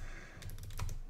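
Quick burst of keystrokes on a computer keyboard while entering code into a notebook cell, several close clicks in an irregular rhythm over a steady low hum, with no speech.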